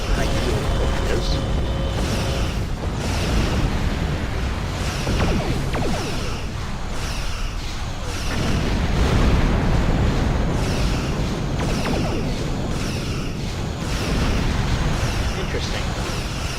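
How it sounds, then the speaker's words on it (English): Torpedo fire and explosions in the space combat game Star Trek Online during a Borg invasion battle, heavy rumbling blasts and booms layered continuously over dense game sound effects, loud throughout with talk over it. "Fire high yield torpedoes."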